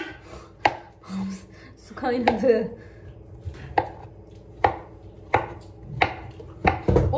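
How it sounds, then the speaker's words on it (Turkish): A knife chops apples on a cutting board in a home kitchen during waffle-making, sharp separate knocks in an uneven rhythm, close and loud, with a short spoken remark and some handling noise between the cuts. "Şimdi hemen doğrayalım."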